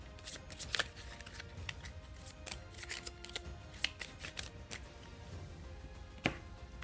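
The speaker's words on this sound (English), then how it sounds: "reset, shuffle his deck" A deck of cards is shuffled at a tabletop board game, with quick riffling bursts and sharp taps of cards being squared, repeated irregularly and heard close and fairly quiet without talk.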